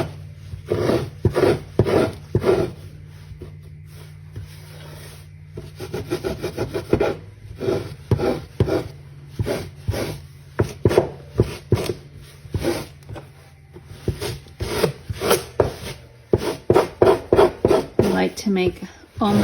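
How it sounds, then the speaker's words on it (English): Coarse 60 grit sandpaper rubbed over fabric on a handmade primitive-style Christmas stocking, giving close, rhythmic rasping strokes in uneven bursts, with a voice talking over parts of it. "So this is just a 60 grit sandpaper, and I like to go and just sand it down"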